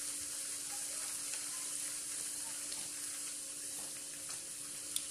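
Urad lentil batter fritters for dahi vada deep-frying in hot oil, giving a steady, fairly quiet sizzle and bubble throughout with a faint click near the end and no voices.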